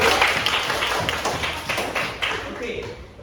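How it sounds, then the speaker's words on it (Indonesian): A small class claps for a student named Gishu during an English microteaching lesson, a few seconds of scattered, uneven hand claps and taps close by, with voices underneath. "Tepuk tangan untuk Gishu"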